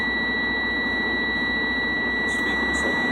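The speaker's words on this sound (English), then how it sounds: "My warning light and buzzer should shut off, but it must shut off before 75." A truck's low air pressure warning buzzer sounds during an air brake test, a steady loud continuous electronic tone held throughout over engine rumble, with faint chirps near the end.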